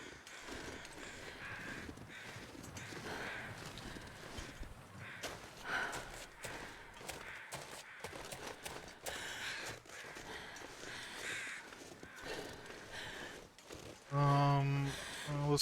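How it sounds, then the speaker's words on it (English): Crows caw in The Long Dark, a wilderness survival video game, as a flock flies away at dusk; repeated harsh calls stand out over steady rain and ambient wind, and a louder cluster of calls closes the scene. "Well, those crows are just flying away."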